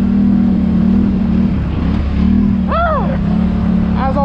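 An 850 four-wheeler ATV engine idles and pulls away, a steady low motor drone that swells and dips, with faint higher chirps over it near the end and no talk.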